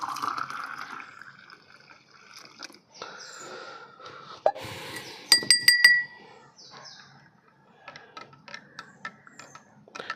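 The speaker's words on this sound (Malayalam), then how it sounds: "ഫുള്ളാക്കാനായിട്ട് വെള്ളം ഒഴിക്കാം ബാക്കി." Water is poured into a glass of lime juice, with a short filling pour followed by sharp glass clinks and taps, close by, then quieter scattered handling noises; no speech.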